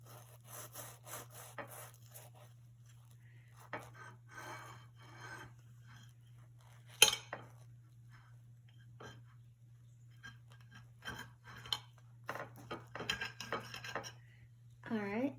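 A knife saws through a ham and egg sandwich with repeated short rasping strokes and scrapes against a plate. A person talks briefly, and a steady low hum runs underneath throughout.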